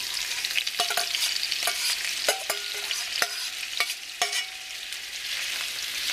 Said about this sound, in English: Now we'll cook these down until the sausage gets a nice crust on it.